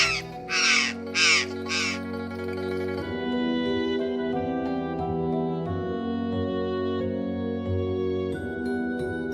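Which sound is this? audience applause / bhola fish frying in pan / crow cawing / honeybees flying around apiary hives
crow cawing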